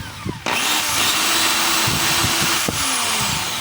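A Stanley SDH600 half-inch drill runs forward with a rough, gravelly motor whine, starting abruptly after a brief thump and holding steady, close and loud, with a momentary dip near the end.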